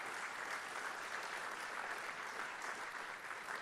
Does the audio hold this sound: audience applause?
yes